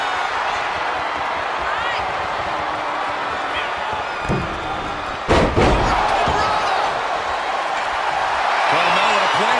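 Virtual wrestlers crash onto the mat in WWE 2K23: a sharp slam lands about midway through, followed by a second heavy impact and thuds, all under continuous commentary and a crowd roar.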